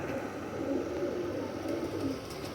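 Golden breed pigeons coo softly in a low, steady murmur that runs continuously through the moment, with a constant background hum and no voices.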